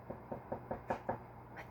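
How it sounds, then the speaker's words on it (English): Six soft, evenly spaced knocks on a door sound close and gentle in a quiet room, with no voices. "She knocked softly, but there was no answer."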